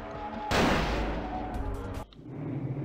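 Video game gunfire erupts as a sudden loud blast that crashes and decays over about a second and a half, then cuts off abruptly into lower background game noise.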